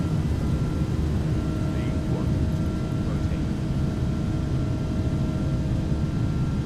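An Airbus A330 airliner in X-Plane 11 rolls down the runway for takeoff, a loud, steady broadband engine roar with faint whining tones, constant throughout and with no voices over it.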